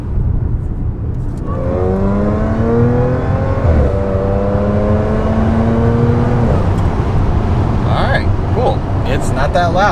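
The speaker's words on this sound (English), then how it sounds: "It's not that loud, which is good, but you can definitely hear the supercharger." Supercharged Audi S4 with a new intake and X-pipe accelerating in a pull, engine note rising steadily in pitch through the gears with a shift near four seconds, a continuous loud drone with supercharger whine, a voice briefly audible near the end.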